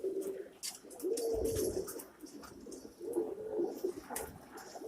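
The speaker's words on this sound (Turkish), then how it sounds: "Kuşlarımız böyle abiler. Yemlerini yediler. Sularını içtiler." Pigeons in a mixed-breed coop coo in soft, repeated, rolling calls close by, layered over one another with faint rustling and background noise throughout.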